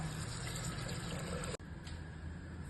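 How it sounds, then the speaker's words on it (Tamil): Water pours steadily into a cooking pot holding tomato and crushed garlic, a continuous splashing rush that briefly cuts off and then resumes, quiet and close with no voices. "தேவையான அளவு தண்ணி சேர்த்துக்கலாம்."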